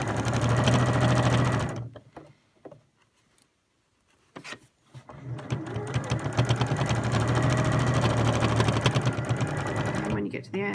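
Sewing machine running a straight seam on medical scrubs, loud and close, with a long steady whirring run, a pause with brief stitches, then another long run.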